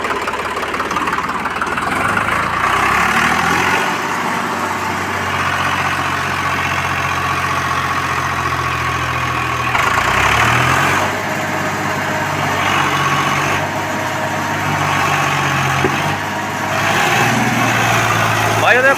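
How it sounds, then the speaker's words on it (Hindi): A Swaraj 735FE tractor engine runs in second gear during a brick-breaking challenge, a loud, close, steady diesel chug with heavy low rumble and rhythmic knocking, surging slightly in places. "कूद गया ट्रैक्टर दूसरे गेयर में"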